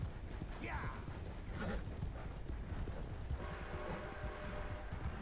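Horse hooves clip-clop in a steady gait through Red Dead Redemption II, soft and fairly quiet beneath game ambience and creaking tack, with a voice speaking over them in places.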